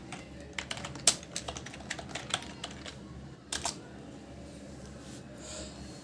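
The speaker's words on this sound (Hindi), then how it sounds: "तो सबसे पहले हम गूगल पर हरियाणा पुलिस टाइप करते हैं" Typing on a computer keyboard for a Google search: a rapid, irregular run of close key clicks, with a short burst near the end and then quiet.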